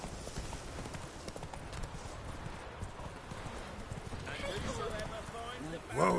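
Roach, a horse in the video game The Witcher 3, gallops with a steady clip-clop of hooves throughout, swelling slightly near the end as a short whinny-like sound rises over the hoofbeats.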